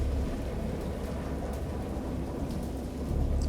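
Steady, heavy rain with low rumbling thunder from a stormy scene in the visual novel Dagon, loud and continuous with no voices.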